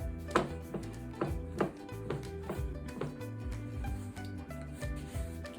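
Dough for Chinese dumpling wrappers is rolled out and turned on a floured board, giving repeated soft thumps and rubbing strokes at a steady rhythm, close and fairly quiet.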